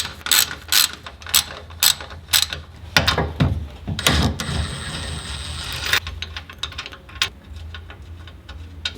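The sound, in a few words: ratchet loosening 14mm sway bar bolts on Toyota Tacoma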